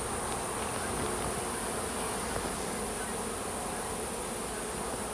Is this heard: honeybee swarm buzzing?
yes